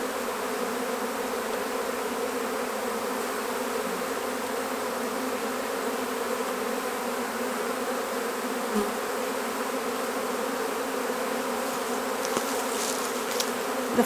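Feral honeybees being extracted from a hollow tree fill the air with a steady, dense buzzing swarm drone that holds evenly throughout, close and continuous, with no voices.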